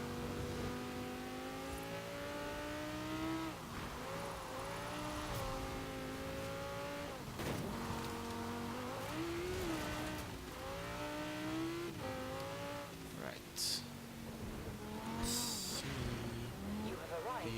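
Audi R8 with a V8 engine driving in Forza Horizon 4, a steady engine drone rising and falling through gear changes, with sharp squeal-like bursts late on and talk over the top throughout.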